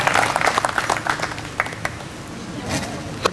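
Applause from the audience at a mushaira greeting a poet: a spread of steady clapping that fades into lighter, scattered claps toward the end, moderately loud.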